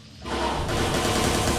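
Gunfire in the open-world game Watch Dogs 2, a dense, loud burst of rapid automatic shots that starts after a brief quiet moment and continues without a break.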